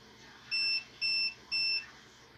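Three evenly spaced, clean electronic beeps, each about a quarter second long, come from a 12V to 220V IGBT high-frequency inverter over a faint background hum.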